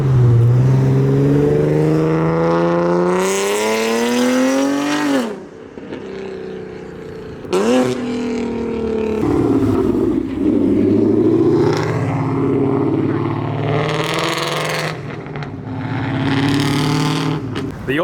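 Modified JDM cars, among them a right-hand-drive Toyota Soarer, rev and accelerate loudly up close as they leave a Dallas car show, engine notes rising through gear changes in several long pulls with brief dips between.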